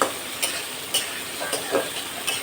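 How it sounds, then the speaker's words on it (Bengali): Fish fries with onions in a pan, a continuous close sizzle broken by regular scraping stirs roughly every half second, with no talking. "মাছটারে একটু ভাজা ভাজা করব"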